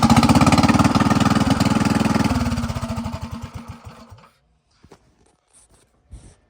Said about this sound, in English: I did put my old motor back on this with the new carburetor